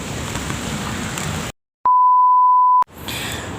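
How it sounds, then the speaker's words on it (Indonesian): Steady rain patters on a surface outdoors, filling the first half and returning near the end, broken by a stretch of silence and a sustained electronic censor beep. "Aduh, hujan."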